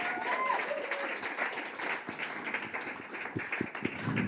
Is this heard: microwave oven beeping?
no